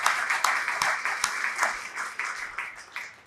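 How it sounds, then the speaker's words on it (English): An audience at a cardiomyopathy community conference keynote claps for fundraising volunteers, a fairly faint patter of applause from a modest crowd that continues steadily and without talk. "big round of applause to them"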